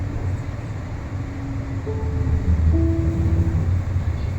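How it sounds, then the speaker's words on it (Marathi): A metro train running between stations gives a steady low rumble with rising tonal whine partway through, loud and continuous, with no talking. "आपल्यासारखीच ही मेट्रो वेगवेगळ्या स्टेशन्सवरती थांबत निघालेली आहे"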